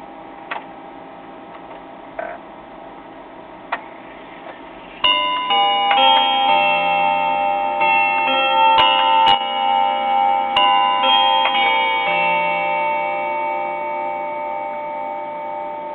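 A finished mechanical clock plays its three-quarter-hour chime sequence, a series of clear, ringing bell tones struck one after another and overlapping as they decay, preceded by a few soft ticks of the escapement.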